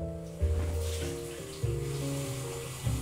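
Tap water runs steadily into a sink while cleanser is rinsed off the face, a close splashing flow broken by a few louder sloshing surges.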